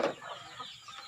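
Native chickens clucking at feeding time, giving a brief close cluck followed by faint soft calls.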